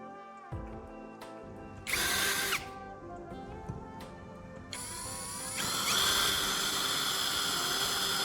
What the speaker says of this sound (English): Before drilling the 2 holes, I'll mark the 2 points on the caps to ensure accuracy.